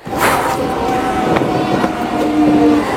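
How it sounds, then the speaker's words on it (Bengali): A train rolls in at platform 3 of Khirai station, a loud, steady rumbling roar of wheels and carriages that fills the whole stretch without any voices. "এখানে দুপুরে ট্রেন আছে, এটা আছে 3 নম্বর প্ল্যাটফর্ম, এখান থেকে আসবে ট্রেন।"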